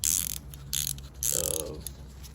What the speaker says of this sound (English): So let's whack a socket on and get this sucker off.